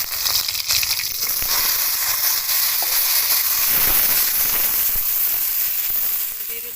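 Green jackfruit frying in hot oil in a pan: a loud, continuous crackling sizzle close by, holding steady and easing off toward the end, with no talk.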